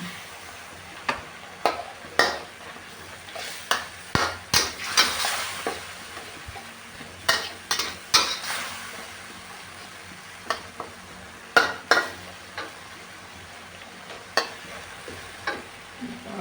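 Carrots are stir-fried in a pan for a Thai three-flavor fried tilapia dish, with a steady background sizzle broken by repeated irregular scraping and knocking strokes of the spatula, close and fairly loud.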